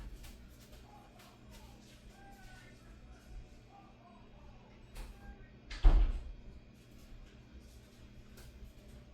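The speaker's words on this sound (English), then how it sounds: "Let me close this door." A door is pushed shut at close range in a room with a loud TV playing in the background, giving a single sharp thud that stands out briefly above the steady room noise.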